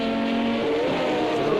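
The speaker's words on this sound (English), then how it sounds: "Pash has gone off into the hairpin onto the grass. Just going to get the car straightened out" A Porsche race car in a racing video game recovers from the grass at a hairpin, its engine note droning steadily and shifting pitch as it accelerates, close and fairly loud, with no talking.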